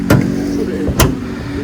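A Kia Carens 2024 mid-line variant's 1500 cc petrol engine idling under an open bonnet, a steady close hum with a low harmonic drone, broken by two brief sharp clicks.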